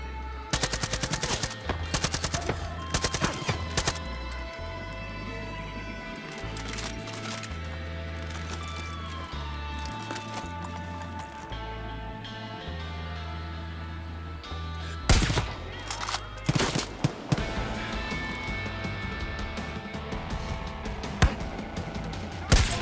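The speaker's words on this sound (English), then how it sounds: "they're shooting me." Enemy gunfire in Far Cry 5: repeated bursts of automatic rifle fire and scattered single shots crackle over a game soundtrack, with a heavier cluster of loud shots near the end.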